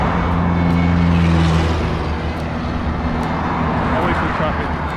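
Road traffic passes on a street in El Paso, Texas: a steady, loud roar of cars and trucks close by, with an engine hum fading as a vehicle goes past and a person talking over it.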